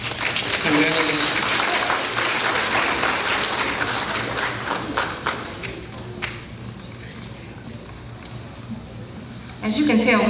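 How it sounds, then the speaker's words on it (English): An audience applauds graduating career and technical education students at a completers program. The clapping is steady for about six seconds and then thins out, and a voice speaks over the tail before a louder burst at the end. "please give yourselves a round of applause, CATE students"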